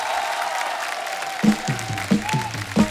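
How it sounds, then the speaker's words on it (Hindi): Studio audience applause on a comedy show, faint clapping beneath a voice speaking over it, with the clapping fading behind the talk. "जोरदार तालियां असरानी साहब के लिए"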